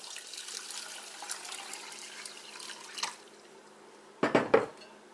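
Water runs into a pot with a soft, steady hiss, then stops, followed by a short burst of louder splashing and clinking.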